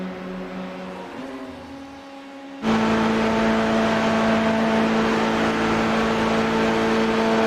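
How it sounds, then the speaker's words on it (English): Race cars from a Volkswagen one-make racing series run flat out down a long straight, a steady loud engine drone that jumps in level partway through as a car draws close in the slipstream. "Priyat V is inside the slipstream down the Camel Straight with 2 to go."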